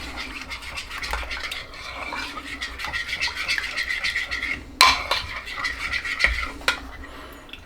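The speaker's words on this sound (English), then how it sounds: "Then I just stir it up." Powdered eggs are stirred into water with a utensil, giving steady close scratchy scraping in a quick rhythm, with a couple of louder clinks near the end.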